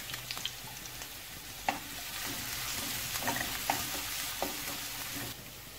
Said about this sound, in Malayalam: ഇതിലേക്ക് നമുക്ക് കുറച്ച് ഇഞ്ചി, കുറച്ച് വെളുത്തുള്ളി, ഒരു രണ്ട് പച്ചമുളക് അരിഞ്ഞത് ഇത്രയും ചേർത്ത് അങ്ങോട്ടേക്ക് ഒന്ന് വഴറ്റുക.